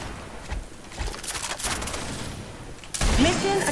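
M4 Elite rifle fire in a video game, rapid clattering shots in short bursts over a busy noisy backdrop, ending in a louder stretch with a few bird-like chirps.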